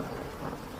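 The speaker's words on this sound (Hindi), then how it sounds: "बादल जोर जोर से गरजने लगे।" Thunder rumbling through a heavy rainstorm in a Hindi cartoon, a steady low roar with a broad wash of rain noise, held at an even, fairly faint level throughout with no voices.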